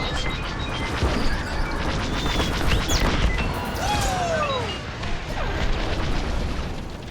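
Missile launches and impacts during a space dogfight in Star Wars: Squadrons, a dense, steady wash of booms, crashes and whooshing streaks with no let-up, loud and close throughout.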